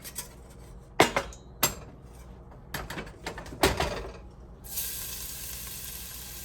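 Garlic dropped into a couple of tablespoons of hot oil in a skillet: a few sharp clanks and taps of a utensil against the pan, then a bright, steady sizzle that rises and continues to the end.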